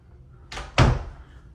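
A closet door in a model home opens with a short scrape and then a single close, solid thump, with no talking.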